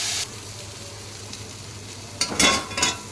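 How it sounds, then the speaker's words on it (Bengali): Spiny gourd (kakrol) pieces frying in a little oil in a wok, a soft steady sizzle with bursts of crackling and stirring toward the end, fairly close and with no speech. "কারকলগুলো আমার লাল লাল করে ভাজা হয়ে গেছে"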